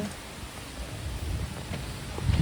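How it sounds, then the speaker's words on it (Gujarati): Rain falling outdoors during a street outing in Vadodara, a steady broadband hiss over low rumbling noise that grows slightly louder toward the end, with no talking. "એ વરસાદ ચાલે છે ભાઈ"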